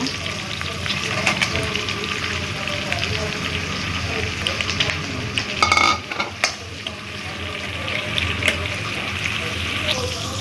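Mushrooms and onions fry in a kadai for mushroom curry, a steady close sizzle with scraping and stirring of the spatula, plus a brief flurry of clinks and louder stirring midway.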